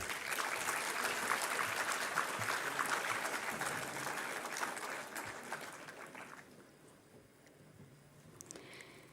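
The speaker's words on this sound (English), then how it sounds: "Can we have a round of applause?" Audience applause fills a hall at an international G20 conference at Shaheed Bhagat Singh College, University of Delhi. The dense, steady clapping lasts about six seconds, then tapers into a quieter room.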